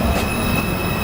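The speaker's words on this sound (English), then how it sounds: "Downtown Express 2 train. Approaching the station" A New York subway Downtown Express 2 train rolls into a station with a loud, steady roar of rails and wheels, a faint squeal riding over the rumble for the full second.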